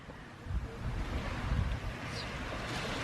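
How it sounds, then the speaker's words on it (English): Gentle waves washing on a calm, flat sea off Akumal, Mexico, a soft continuous wash with light wind noise and no talking. "Just a little bit of wave action"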